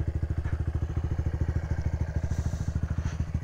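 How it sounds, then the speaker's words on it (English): Honda Grom motorcycle engine rumbling steadily while riding through a gorge, a close, loud, evenly pulsing low thump with no talk over it. "Bike's rumbling along."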